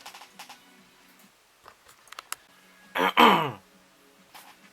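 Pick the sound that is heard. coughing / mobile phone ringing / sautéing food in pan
coughing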